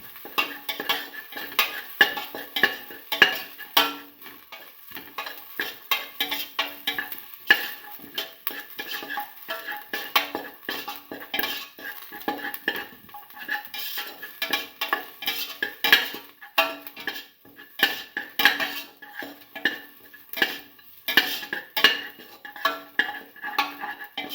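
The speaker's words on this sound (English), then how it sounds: "saute garlic" Garlic with salt being sautéed and stirred in a pan for a cinnamon split pigeon pea stew, with steady scraping and clinking of a utensil against the pan over a faint sizzle, close and continuous throughout.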